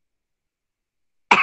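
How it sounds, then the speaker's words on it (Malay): A single short cough during an Islamic religious lecture, bursting out abruptly at the end after more than a second of silence. "Batuk dah."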